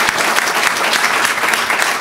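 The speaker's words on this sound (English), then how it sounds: "Let's give another round of applause to Tim Mead and Angels Baseball." Loud, dense applause rises from the audience at an Angels Baseball luncheon for Tim Mead and the team, many hands clapping steadily with no break and no voices on top.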